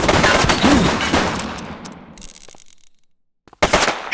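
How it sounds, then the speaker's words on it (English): Rapid burst of gunfire in the police game The Precinct, loud and close, fading into a decaying echo before a couple of sharp follow-up shots cut in at the end. "Shots fired!"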